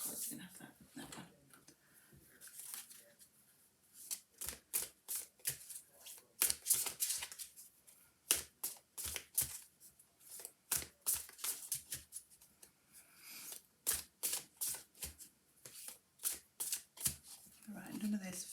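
Tarot cards being shuffled by hand, a long run of crisp riffling flutters and soft slaps, close and fairly quiet, with pauses between bursts and no talk over them.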